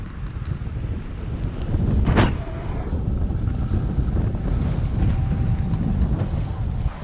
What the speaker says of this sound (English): I complained about the wind every time I'm out, but it's a fact of life living on a relatively small island.